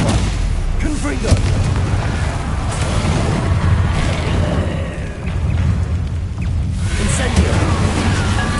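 Spell casting and magical explosions from the video game Hogwarts Legacy, a dense, loud, continuous wash of booms and blasts with bursts throughout, fighting Inferi.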